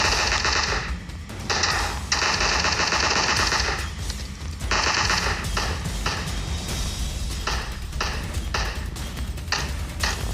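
Automatic gunfire in the PUBG Mobile game: loud, rapid machine-gun bursts with ringing metallic pings, several sustained volleys separated by brief gaps across the clip, no speech heard.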